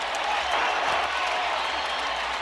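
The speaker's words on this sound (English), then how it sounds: "you hear the crowd reacting" A stadium crowd roars in a broad, sustained wash of cheering and applause after a football touchdown at the Big 12 Championship, with a commentator's voice mixed in.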